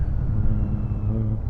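A Royal Enfield Shotgun 650 motorcycle on a test ride gives a steady, close, low engine rumble with a slight rise in pitch near the end, alone without talk.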